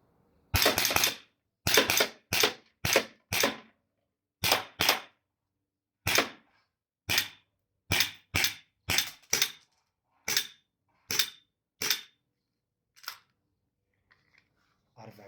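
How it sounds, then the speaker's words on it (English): A VFC FNX45, ASG P10C or Stryk 5.1 airsoft gas pistol fires about twenty sharp, loud close-range shots in quick pairs and singles, with short silent gaps between them. "Let's do some up close shooting."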